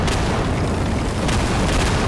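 Game explosions in Garry's Mod: a steady, loud, rumbling blast texture fills the whole stretch, with a couple of sharper bursts near the end and no talk.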